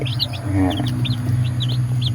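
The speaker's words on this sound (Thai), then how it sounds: "ลูกไก่ตัวน้อยๆ สีสวย ๆเป็นลูกไก่ไข่ไก่เนื้อนะครับ" Small chicks of laying and meat breeds on a home farm chirp in quick, high repeated peeps over a steady low hum.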